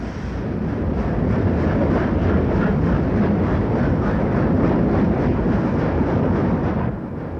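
Steam locomotive 3801 pulls out of Sydney at the start of a transcontinental journey, a loud, steady broadband roar of exhaust and rolling train that holds evenly for several seconds before easing slightly at the end.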